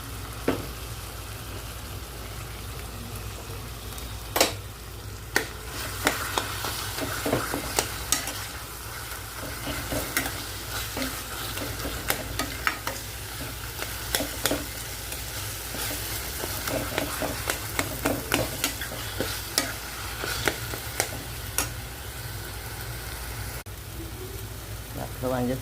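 Tomato and eggplant frying for baingan bharta are stirred in a pan, with a steady sizzle and repeated scraping clicks of the spoon against the cookware, close by, while a person speaks over the cooking.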